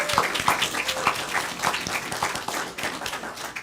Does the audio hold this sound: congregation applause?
yes